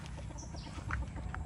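Chickens in breeding pens cluck faintly and sporadically, a couple of short soft calls over low background hum.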